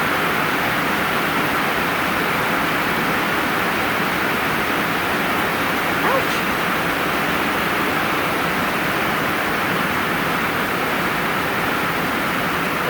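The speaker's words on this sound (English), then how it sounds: "Yep, good old metal roof rain." Heavy rain pounds a metal roof in a dense, unbroken roar that holds at one loud level throughout. A voice cuts in for a single word partway through.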